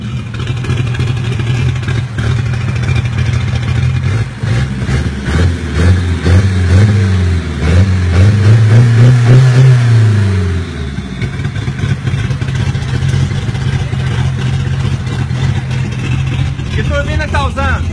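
Turbocharged Chevette with an HX35 turbo and forged, fuel-injected engine drifting on asphalt, its engine revving hard and rising then falling in pitch mid-clip, close and loud, with people talking over it throughout.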